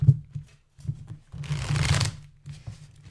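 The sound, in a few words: shuffling tarot cards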